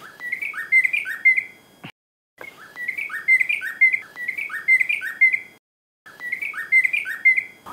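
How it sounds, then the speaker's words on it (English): A songbird sings a repeated bright warbling phrase of rapid chirps and trills, close and clear, looping three times with brief silent gaps between, no talk. "We acknowledge the beautiful bird that has come to just sing praises"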